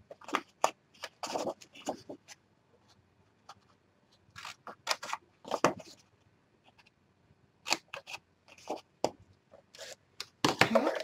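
Scissors snip paper rectangles off a folded 1-inch flap for an 8x7 mini album, a series of short, close, crisp cuts in separate bursts with brief quiet gaps between them.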